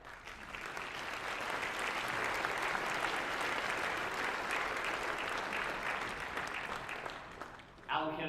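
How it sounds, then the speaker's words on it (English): Applause from the audience at the Kansas Farm Bureau's 100th annual meeting for the Allen County award, a sustained, even clapping of a large crowd that swells, holds for several seconds, then fades near the end. "Please join me in giving them a round of applause."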